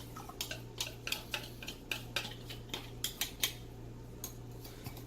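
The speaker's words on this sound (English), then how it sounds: "Stirring it all together," Gelatin stirred into reduced broth in a pan for soup dumplings: a utensil clinks and taps against the pan in an irregular rhythm, close and fairly quiet over a steady low hum.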